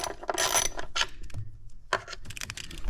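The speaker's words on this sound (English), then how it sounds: "you need to break loose all of these bolts holding the coil packs on" A socket ratchet breaks loose the coil pack bolts on a 2.7 Ford Bronco engine, giving several bursts of clicking and rattling, fairly loud and close, with no talk.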